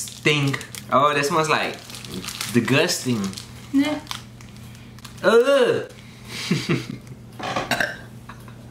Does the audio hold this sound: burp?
yes